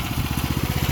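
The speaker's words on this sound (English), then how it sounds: "Running on choke right now, but still started up." A Craftsman 4 HP wood chipper/shredder engine with a Chinese carburetor runs on choke, giving a steady, close, rapid chugging putter.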